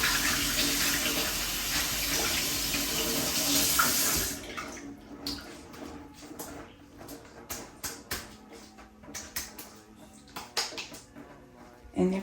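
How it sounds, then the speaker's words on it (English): Running tap water rinses a pineapple, first as a loud, steady gush for about four seconds, then as uneven splashing and dribbling while the fruit is turned under the stream. "Make sure I rinse it off real good."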